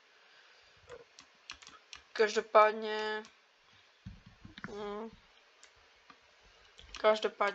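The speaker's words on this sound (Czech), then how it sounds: "Pardon, jestli je hodně hlasitá klávesnice, ale já s tím úplně nic moc nemůžu udělat." Loud clicking of a computer keyboard while playing Lord of the Rings Minecraft, with bursts of key presses scattered throughout, close to the microphone, under and between someone speaking Czech.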